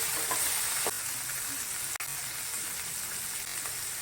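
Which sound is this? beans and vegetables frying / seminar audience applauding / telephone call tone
beans and vegetables frying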